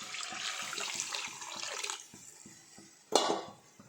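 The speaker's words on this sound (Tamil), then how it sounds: "இந்த டைமில் நம்ம புளி தண்ணி சேர்த்துடலாம்." Tamarind water streams into a pot of spicy kara kuzhambu curry, a steady splashing pour that stops partway, then a brief sharp clatter of a utensil against the pan.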